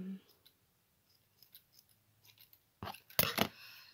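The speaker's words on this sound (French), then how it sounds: "Je vais couper un petit peu ce qui dépasse, c'est pas jojo." Scissors trim excess card stock from a handmade shabby-style greeting card, a quick burst of crisp, close snips near the end after a quiet stretch of faint handling noise.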